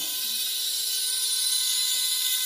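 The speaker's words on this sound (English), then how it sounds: "I drill a hole, and then I put a plug, a Jade plug, right in that hole" A high-pitched drill bores a hole into a piece of jade, whining steadily and continuously at close range with water in use.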